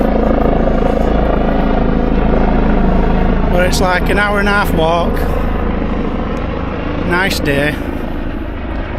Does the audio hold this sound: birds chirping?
no